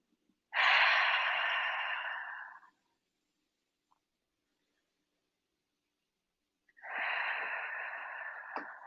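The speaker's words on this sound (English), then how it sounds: "Taking a few moments for 3 big breaths if you'd like." Deep, slow breaths during a group relaxation session: a long audible exhale of about two seconds, a pause of near silence, then another long breath starting, close and unhurried.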